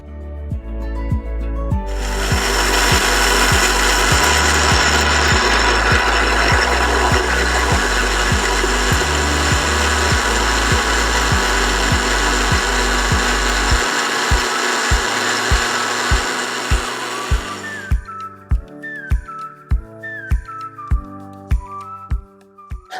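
A mixer grinder blends a rose water red velvet face pack paste, a loud steady whirring roar running for about sixteen seconds before it cuts off, followed by quieter rhythmic thuds.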